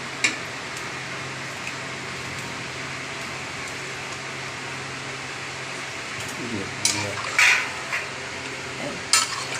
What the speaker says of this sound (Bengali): এখন আমি দেবো আলুগুলো, ভাজা আলুগুলো রেখেছি, সেগুলো এখন দিয়ে দিচ্ছি ঝোলে